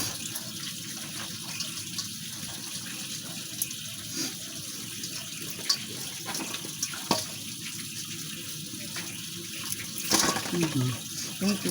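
Water runs steadily from a tap while mud crabs are being cooked, a continuous close rushing wash with occasional knocks and splashes and a brief voice near the end.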